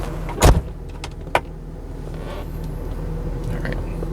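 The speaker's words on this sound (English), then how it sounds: "Just close the door." A single solid thud of a door shutting on a 1995 Mercedes-Benz S 320 long-wheelbase W140 sedan, close and sharp, followed by a smaller click and quiet interior hum.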